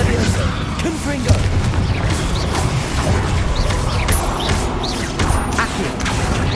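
A Confringo fire-spell blast from Hogwarts Legacy booms within dense game combat noise, with crashing impacts and rumbling explosions mixed under shouted spell calls.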